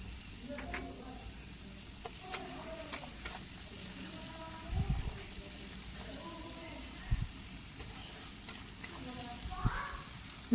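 Chopped green chillies and tomatoes fry for a chicken dish, giving a quiet, steady sizzle with scattered pops and scraping stirs, close by.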